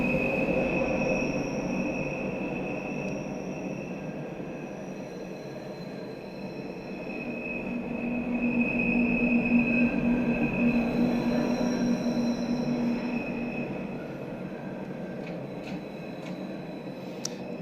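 A London Underground Bakerloo Line train running in the Train Sim World 2 game: a continuous rumble of wheels with a sustained high squeal, swelling louder midway through before easing off, and no voices over it.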